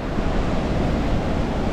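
Steady roar of sea surf breaking on a shore with wind buffeting, continuous and loud throughout with no voices, at low tide after a southwest monsoon wind has begun easing.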